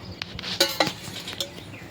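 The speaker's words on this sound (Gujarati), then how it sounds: "ખીચડી વઘારે છે. તેલ નાખે છે." A spoon clinks and scrapes against a pot a few times while oil is added to temper Gujarati khichdi with potato, onion, tomato and chilli, quiet and close, over a faint background hiss.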